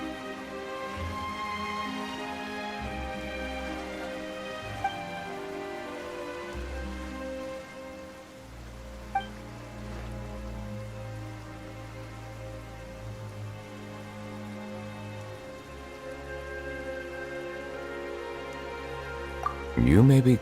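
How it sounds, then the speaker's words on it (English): Rain falling in the video game Genshin Impact, a steady soft patter on surfaces lasting throughout, moderately loud beneath a low musical score, with a few isolated drops standing out. "Why is it raining all of a sudden?"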